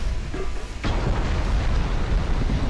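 Shell hits explode on a warship in the naval game Ultimate Admiral: Dreadnoughts, a loud broadband boom at under a second swelling into sustained, roaring blast noise with no speech.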